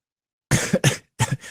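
Three sharp coughs in quick succession after a short silence, close and loud, each a harsh burst with a brief gap between.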